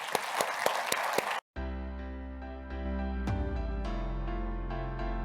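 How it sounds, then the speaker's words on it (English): Brief applause for a panel at a community entrepreneurship event, a dense patter of claps for just over a second before it cuts off abruptly and gives way to sustained music. "let's give this wonderful panel a great round of applause"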